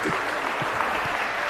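Hockey players at a men's match applaud the fans with a brief, steady patter of clapping, lasting only a moment.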